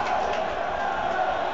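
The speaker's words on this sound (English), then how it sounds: "the crowd come alive" Rugby crowd roaring at a Cardiff versus Glasgow United Rugby Championship match, a dense continuous wash of cheering heard over a broadcast line.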